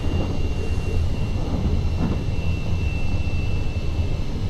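Airplane engines spool up in the video game Kane & Lynch 2, a loud, steady, dense roar with a faint high whine running through it, continuous throughout with no talking.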